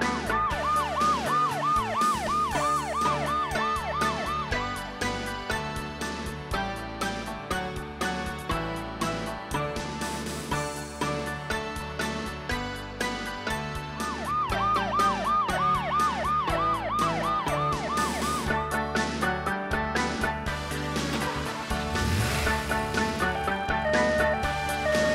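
A wailing ambulance siren rises and falls in repeated cycles over loud rhythmic music with a driving beat, sounding produced rather than recorded on a street.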